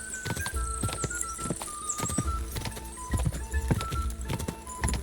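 Horse hooves galloping in the medieval video game Kingdom Come: Deliverance, rapid rhythmic clip-clop thuds, close and steady throughout, with faint jingling tones over them and no talking.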